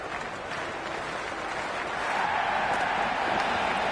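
Stadium crowd at a Sri Lanka versus Pakistan cricket match, a dense steady wash of cheering and applause that swells louder midway and holds, with no voices standing out.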